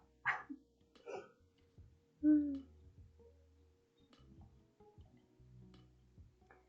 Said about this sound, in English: She's barking so much